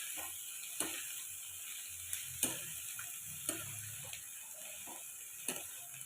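Mustard seeds popping in hot oil while cooking beetroot palya, with sharp isolated pops and cracks every second or so over a faint steady hiss.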